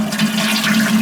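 A Mansfield toilet flushing and refilling with a steady, loud rush of water from tank into bowl, continuing evenly throughout with no speech.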